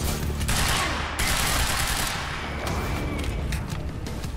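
Gunfire in the video game Quantum Break: dense, rapid automatic bursts and overlapping shots fill the space loudly and continuously, with a few heavier booms and a brief dip in intensity midway.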